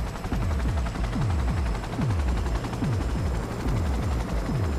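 Helicopter rotor thumps pulse steadily through a loud firefight in Cyberpunk 2077, with repeated descending booms from a heavy machine gun fired from the chopper, dense and close throughout.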